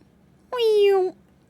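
A person's voice imitates a cat with one drawn-out, nasal meow, close and clear, with quiet surroundings before and after.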